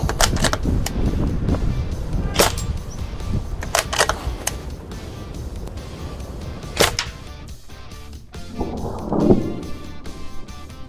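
An Umax 850 M2 air rifle firing at chalk disc targets outdoors, with several sharp, close cracks spaced irregularly and faint handling noise between shots.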